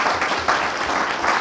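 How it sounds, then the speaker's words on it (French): A basketball club's general assembly audience applauds the club's women, a steady wash of many hands clapping without a break. "Je vous demande de les applaudir"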